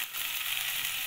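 Onions frying in oil for a Tamil prawn gravy, a continuous soft hiss of sizzling throughout, close and even, with no voices.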